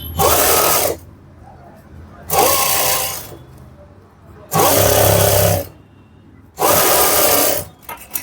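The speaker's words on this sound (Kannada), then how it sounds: "ಎಡ್ಜ್ ಸ್ಟಿಚ್ ನೀಟಾಗಿ ಹಾಕೊಳ್ಳಿ" Sewing machine edge stitching a puff sleeve runs in four loud, steady bursts of roughly a second each, with quiet pauses between them.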